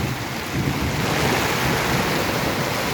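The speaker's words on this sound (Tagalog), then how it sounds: "bumagyo na. Taas na hangin" Strong typhoon wind roars continuously across the microphone high on a building under construction in San Carlos, a dense broadband rush that swells slightly after the start and stays loud throughout.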